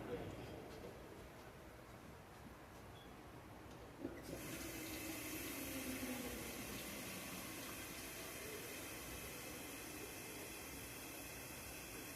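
A kitchen tap runs to fill a cooking pot with water for heating while making homemade gravy, a quiet hiss at first that opens into a loud, steady rush of water from about four seconds on.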